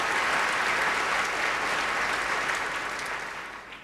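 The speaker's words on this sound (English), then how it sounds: "please give them a round of applause" A banquet crowd at the NASCAR Nextel Cup Series awards applauds a championship team, dense sustained clapping that fades slightly toward the end.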